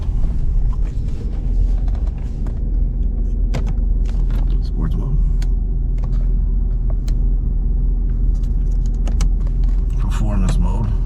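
A 2014 Chevrolet Caprice PPV police car idles and pulls away, its low engine rumble steady and loud inside the cabin, with scattered clicks and knocks and someone talking over it.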